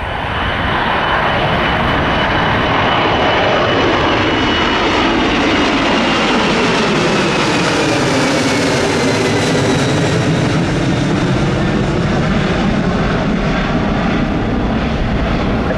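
LATAM jet airliner taking off at Miami International Airport, a loud, sustained roaring engine rumble with a rising and falling whine as the plane passes, filling the whole stretch without any talk.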